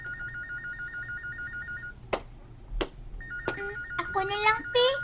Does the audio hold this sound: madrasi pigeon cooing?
no